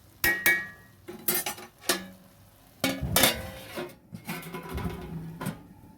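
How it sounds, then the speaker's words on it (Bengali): Metal cookware clatters in a home kitchen as a lid is set on a cooking pot, with several sharp clinks and scrapes spread unevenly over a few seconds, close and clear. "এবার চাপা দিয়ে দেবো।"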